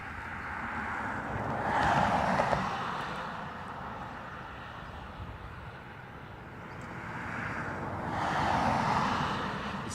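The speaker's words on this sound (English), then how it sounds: "This is our Ryanair from Newcastle." A Ryanair airliner arriving from Newcastle at Dublin Airport roars in the distance, its jet engine noise swelling and fading twice over a windy outdoor background.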